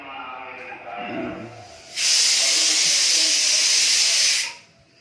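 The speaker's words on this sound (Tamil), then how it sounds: "அதனால் நான் பூரி பொறிக்க நின்றேன்" Puri deep-frying in hot oil in a home kitchen, a loud steady sizzling hiss that bursts in suddenly and holds for a couple of seconds before cutting off, after a quieter stretch of faint background noise.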